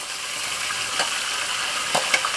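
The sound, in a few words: seafood with prawns sizzling as it stir-fries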